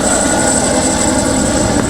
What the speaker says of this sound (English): with a helicopter hovering over the area to safeguard lives and property